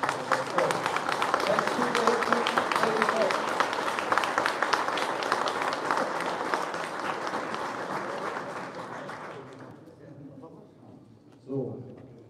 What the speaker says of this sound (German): Ich möchte aber trotzdem, dass ihr den beiden Jungs im Speziellen und allen, die auf der TT fahren, nochmal einen riesen Applaus gibt.